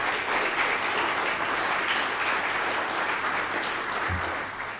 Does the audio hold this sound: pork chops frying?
no